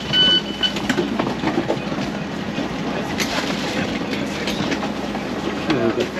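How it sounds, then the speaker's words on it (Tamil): A passenger train runs on the rails between the Netherlands and Munich, Germany, making a steady, loud rumble with faint rhythmic clatter throughout. "இப்போது நெக்ஸ்ட் ட்ரெயின் ஏறியாச்சு."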